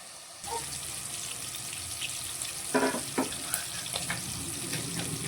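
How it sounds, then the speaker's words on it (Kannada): Chicken green kabab frying slowly in a shallow layer of oil, giving a steady close sizzle and hiss with a few brief crackling bursts and pops, no voices. "ಇನ್ನೊಂದು ಐದು ನಿಮಿಷ ಈಗಿನೇ ಫ್ರೈ ಆಗಲಿ"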